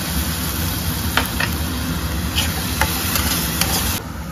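Tomato paste fries steadily in a pan for a Bengali fish egg curry, a continuous close sizzle broken by a few sharp clicks and scrapes of stirring.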